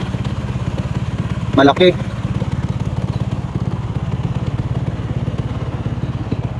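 A 200cc motorcycle with a replaced, smaller stock exhaust idles steadily close by with a low, even throb, while someone briefly speaks over it.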